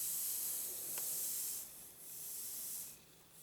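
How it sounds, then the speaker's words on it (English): A steam iron hisses steadily while its tip presses along a damp fabric seam, a continuous breathy spray that swells and eases in waves, with one faint brief click and no talking. "just go along and press down, and you can hear the steam"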